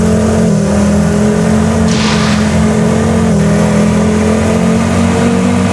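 A Russian car's engine drones loudly from inside the moving car, a steady deep hum with a brief surge of revving midway.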